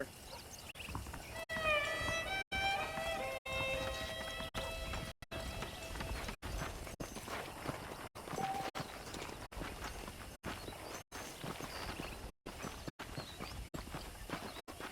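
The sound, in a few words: horse hooves clip-clop, from video game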